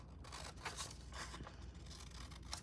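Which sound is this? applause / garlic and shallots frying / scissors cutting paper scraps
scissors cutting paper scraps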